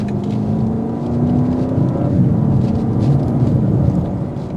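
A 2024 BMW X7 M60i SUV accelerating in comfort mode gives a steady, loud engine drone with a rising tone, heard from inside the cabin over road rumble.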